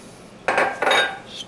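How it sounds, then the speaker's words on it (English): A metal spoon scrapes and clinks against a pot of chili with water in two short bursts of stirring, close and fairly loud, with no talking. "Stir that up a little bit."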